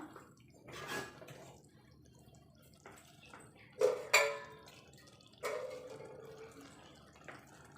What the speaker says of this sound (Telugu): కొన్ని వాటర్ పోసుకుందామండి చికెన్ ఉడకడం కోసం.